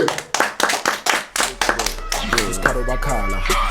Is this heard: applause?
yes